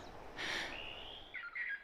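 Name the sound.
recorded bird distress call played to attract songbirds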